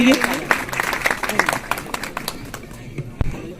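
A school audience at a science quiz prize ceremony claps in brisk, distinct hand-claps that start strong and gradually thin out, with some talking in the background.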